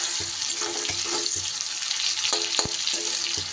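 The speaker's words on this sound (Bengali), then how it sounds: "পেঁয়াজটাকে ঝিরি ঝিরি করে কেটে রেখেছিলাম, সেই পেঁয়াজটাকে দিয়ে দিলাম।" Sliced onion fries in a pan for a rohu fish curry, a soft steady sizzle with occasional light clinks of a spatula, fairly quiet and without talk.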